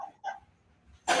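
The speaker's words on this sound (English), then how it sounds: "Is that the dog? That's the dog." Dog giving a couple of short yips or barks nearby, brief and sharp, with quiet gaps between them.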